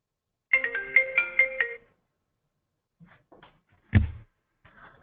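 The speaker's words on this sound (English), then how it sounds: "now Mike, when this message comes through to your phone, if you don't mind just throwing it on speakerphone" A bright electronic phone text-message alert tone plays a quick repeated melodic pattern, followed by quiet handling noises and a soft thump.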